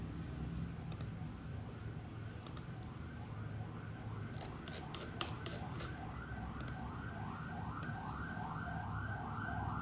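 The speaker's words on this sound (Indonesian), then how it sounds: "Ada nguing-nguing di luar, kedengeran nggak?" A distant siren wails outside in repeated rising-and-falling sweeps, faint beneath an indoor room tone, with a few sharp clicks scattered throughout.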